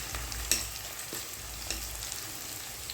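Green chillies and curry leaves frying in an oiled pan for a curry, a steady faint sizzle with a few brief crackles and stirring knocks, no voices.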